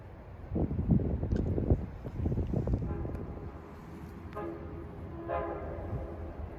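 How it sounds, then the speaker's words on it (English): An eastbound Long Island Rail Road train approaches on the Babylon to Speonk line, with a rumbling rhythmic rattle early on and sounds of the horn later, heard outdoors over wind noise. "approaching is eastbound train 38 en route from Babylon to Speonk"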